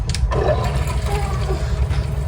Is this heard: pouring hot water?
yes